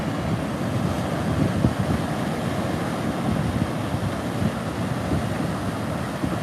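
Ocean waves wash continuously onto a beach with swimmers, a steady broadband rumble of surf mixed with wind noise on the microphone, fairly close and even in level throughout.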